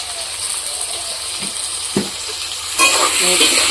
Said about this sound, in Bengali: এই আলুগুলো আমি ভালো করে লাল লাল করে ভেজে নিচ্ছি